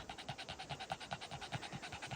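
A dog panting quickly and steadily, soft rhythmic breaths repeating at an even pace, close but quiet.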